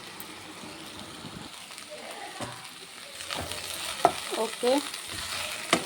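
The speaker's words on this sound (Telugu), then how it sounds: "బెండకాయ కూడా ఫ్రై అయినట్టే" Okra pieces frying in a pan with curry leaves give a steady crackling sizzle, broken by a few louder scrapes of stirring toward the end, while a voice speaks a brief word.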